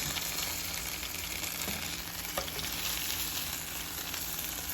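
French toast, stuffed with Fireball whiskey, sizzles steadily in a hot pan as its sides caramelize, a continuous close frying hiss with a few faint clinks and no talk.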